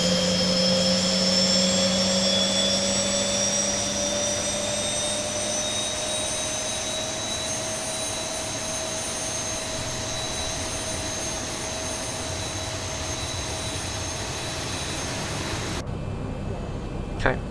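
A Boeing 737 jet engine spooling up during start in the X-Plane 11 simulator, a steady loud turbine roar with high whining tones that slowly shift in pitch, continuous and close, cutting off near the end.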